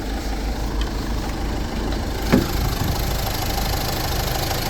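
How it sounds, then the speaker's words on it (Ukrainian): A 2019 Opel Movano van's engine idles steadily at close range under the open hood, a low continuous rumble with a faint ticking texture and one brief knock partway through. "Покажемо під капотом, як працює двигун."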